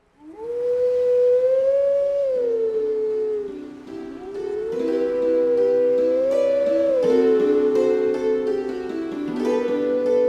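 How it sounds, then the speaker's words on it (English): Wolf howl performing Zelda's Lullaby in Twilight Princess, a long tonal howl whose pitch rises and falls across the melody's phrases, loud and sustained with no talk. "This is the last time we hear the Zelda's Lullaby howl"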